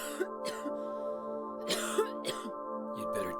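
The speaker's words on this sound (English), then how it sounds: "While walking with Maria, she coughs" Maria, a character in the horror game Silent Hill 2, gives a few short coughs and throat-clearing sounds over a steady low musical drone, the bursts spaced irregularly and close up.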